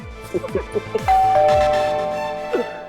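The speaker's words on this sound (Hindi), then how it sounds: "घंटी बज रही है?" A doorbell chimes with a bright sustained ding among plucked musical notes, ringing out clearly and fading over a couple of seconds.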